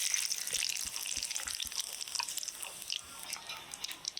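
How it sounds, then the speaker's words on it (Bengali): A tempering of dry red chillies, bay leaf, whole cumin and garam masala sizzles in oil left from frying potatoes, a faint, close crackle of small pops and spits with no talking. "এবার আলু ভাজার তেলেই ফোড়ন দিয়ে দিব ফোড়নে নিয়েছি শুকনো লঙ্কা তেজপাতা গোটা জিরে গরম মশলা দিয়ে দিলাম"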